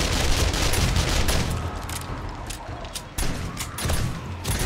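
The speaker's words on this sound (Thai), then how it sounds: "ป้อมยิงซะแบบว่าเราอยู่เฉยๆนะคะเนี่ย" Turret gunfire in the video game 7 Days to Die: a dense, loud fusillade of rapid shots that continues without a break through the whole stretch.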